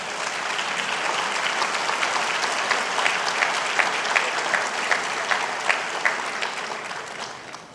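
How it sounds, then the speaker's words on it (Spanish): Applause from a congregation during a Sunday church service, a sustained wash of clapping with some individual sharp claps standing out near the middle, tapering slightly at the end. "Aplauda si quiere."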